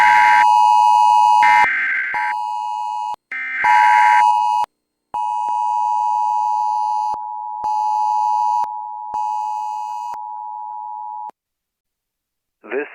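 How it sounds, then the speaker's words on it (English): Emergency alert tone from a NOAA Weather Radio broadcast in a Roblox severe weather game, a steady loud single-pitch tone broken by short gaps into a series of long beeps, with a brief two-tone burst at the start. "This is a test of NOAA Weather Radio All Hazards Public Warning Alarm System"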